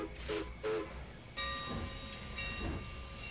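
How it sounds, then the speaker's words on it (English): A train arrives in the city-building game Kapital: Sparks of Revolution, with a soft rumble and hiss carrying sustained horn-like tones, plus a few thumps at the start. "Ooh, we've got our first train"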